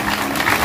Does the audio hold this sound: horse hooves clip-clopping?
no